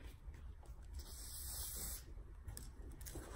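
Hairspray hisses from a can in a soft, continuous spray lasting a few seconds, faint and close, with slight pulses in the stream.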